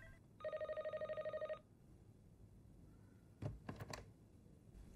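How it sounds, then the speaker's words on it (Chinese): An office telephone rings with one long electronic trill of rapid repeated pulses, then falls quiet, followed near the end by a few soft clicks and handling sounds in a quiet room. "任总，董事长找你，我把电话转过去。"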